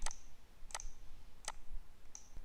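A computer mouse gives four sharp, isolated clicks, evenly spaced, fairly faint and close, against a low room hiss with no talking.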